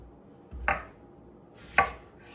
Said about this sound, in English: you're gonna cut them basically a ½ inch, so, or whatever desired thickness that you like.